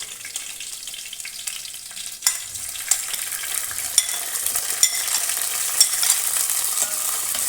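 Okra curry frying in a pan as tomatoes and green chillies go in, a bright steady sizzle with a sharp splash partway through and occasional spoon clicks while stirring, close and loud without talk.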